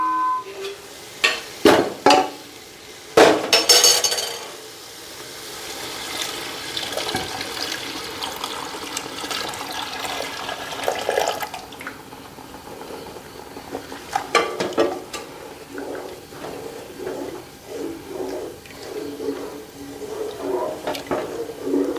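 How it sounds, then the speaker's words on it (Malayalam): Milk poured into sautéed carrot in a pan while making carrot payasam, a close liquid pour and splash with some stirring clatter, sharp bursts early on, then a steady wet rush. "നേരത്തെ നമ്മൾ തയ്യാറാക്കി വെച്ചിട്ടുള്ള പാല് ഇതിലേക്ക് ഒഴിച്ചു കൊടുക്കണം"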